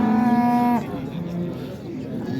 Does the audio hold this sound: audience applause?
no